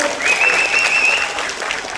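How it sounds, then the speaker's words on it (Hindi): A seminar audience breaks into loud, sustained applause, a dense even clatter of many hands heard up close, with a faint steady tone running underneath for part of it. "मैं चाहूंगा अशोक भाई के लिए एक बार जोरदार तालियां।"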